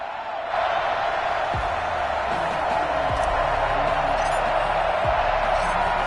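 Sold-out stadium crowd roars steadily in a PS5 football video game as Buffalo Bills face the Green Bay Packers in Buffalo, a dense continuous cheer that swells after the first half second and stays loud throughout.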